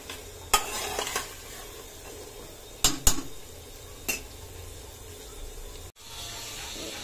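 Boiled chickpeas being roasted in spiced masala in a pan, a low sizzle under a few sharp clanks and scrapes of the spoon against the metal, the stirring coming in short bursts with no talking.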